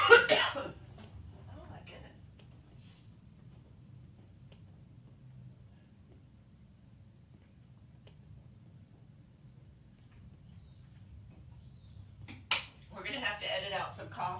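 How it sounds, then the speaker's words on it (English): A short burst of coughing at the very start, then near silence, followed by a few quieter throat-clearing sounds and rustles near the end. "Coughing."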